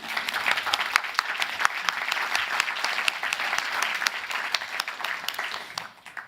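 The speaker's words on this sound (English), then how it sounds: "an applause is in order" Audience applause fills a summit hall, a steady dense clapping from a crowd that holds for about six seconds and then tapers off at the very end.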